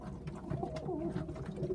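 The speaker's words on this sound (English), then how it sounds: "the one with the green ring on is a pure Macclesfield Tippler" Macclesfield Tippler pigeon cooing close by, a soft rolling series of low throaty coos repeating over a short stretch, with light rustling and shuffling around it.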